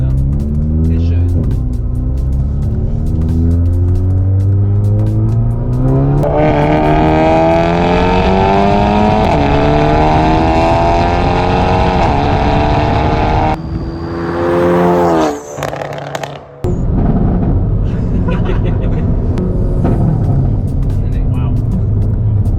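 A 2021 Hyundai Veloster N in overboost accelerates hard, its engine note climbing steadily through the revs before a shift, then dropping into a lower drone. The sound is loud and heard from inside the cabin, with occupants talking over it.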